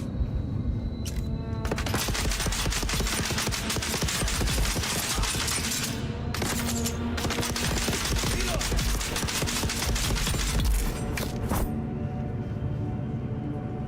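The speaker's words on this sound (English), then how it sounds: "this dart gun's just not very accurate" A dart gun fires in Dune Awakening amid dense, continuous rapid-fire shooting and mechanical clatter that runs the whole time, with brief pauses, close and loud.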